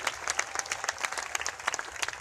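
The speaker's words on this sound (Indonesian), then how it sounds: "ini tepuk tangan buat Tuhan" Audience applause at an evangelistic healing crusade in Manado, a dense steady patter of many hands clapping at moderate distance, sustained throughout without speech.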